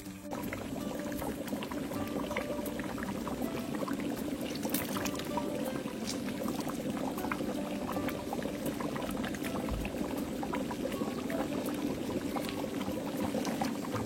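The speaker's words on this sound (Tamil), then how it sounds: "இப்போ கொஞ்சம் தண்ணி ஊற்றி நம்ம கொதிக்க விட்டுட்டு ரைஸை போட்டு குக் பண்ண போகிறோம்" Water poured into a large pot of mutton gravy for a 20 kg Muslim-style dum biryani, producing a steady, continuous liquid rush and bubbling that runs throughout, close and fairly quiet.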